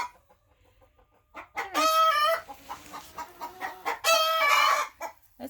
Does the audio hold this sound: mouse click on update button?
no